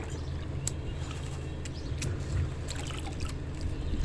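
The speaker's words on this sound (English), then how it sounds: "I think y'all hear the trash man in the background if you hear the rumbling" A garbage truck rumbles low and steady in the background, a faint continuous drone with scattered small clicks and knocks over it.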